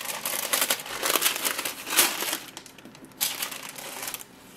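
Paper wrapping around a Gucci box rustles and crinkles loudly and close up as it is pulled open, in bursts that continue with brief pauses, no talking.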